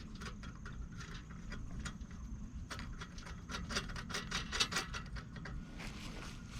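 Small metal clicks and light ticking as a lock washer and 3/8 inch nut go onto a bolt for a custom lawn aerator weight, a steady patter of close handling noises over a low background rumble.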